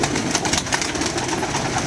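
Pigeons cooing at close range in a loft of caught birds, soft repeated low coos over a constant background hum, with no talking.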